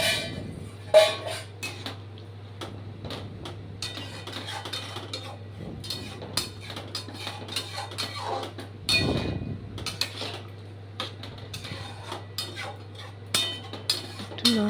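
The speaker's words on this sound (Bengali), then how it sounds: "আলু সজনে ডাঁটা সব ওই গ্রেভিটার মধ্যে দিয়ে দেবো আর নাড়তে থাকবো" Potatoes and drumstick pieces being stirred into a gravy, with repeated spoon scrapes and clinks against the pot over a steady low hum, occasional louder knocks, and no talking.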